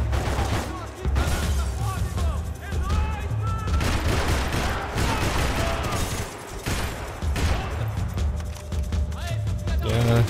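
Rapid bursts of gunfire in the video game Max Payne 3 crackle almost continuously, loud and dense, with a voice talking intermittently underneath.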